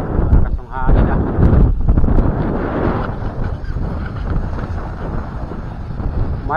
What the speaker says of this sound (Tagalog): Malakas yung hangin ah.